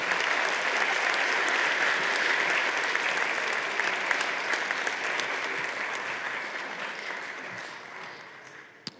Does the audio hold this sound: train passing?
no